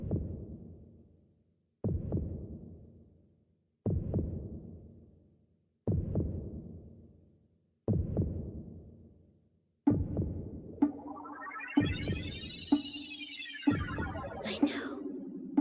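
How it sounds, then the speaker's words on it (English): Anime heartbeat sound effect: five loud, evenly spaced thumping beats, then a rising and falling tonal sweep with quicker faint thumps continuing underneath. "my irregular heartbeat only happens when I see him or when he touches me"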